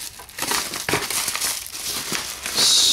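A blade slicing open a mail package, with crinkly plastic and cardboard rustling, a few sharp tearing bursts and a brighter scraping rasp at the end, close up and moderately loud with no speech.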